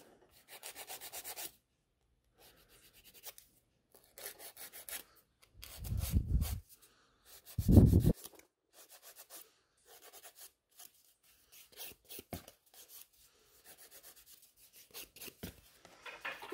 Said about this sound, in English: file those free edge